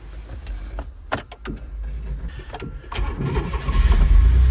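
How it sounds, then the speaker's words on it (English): A car engine cranks weakly during a battery test, with a few sluggish turnover bursts before it catches and runs louder at the end, close by with no talk. "we're going to start the car if it will start just now"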